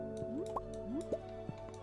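Water poured for a dog in Stardew Valley, heard as a few quick rising droplet and splash blips repeating over a steady low game hum.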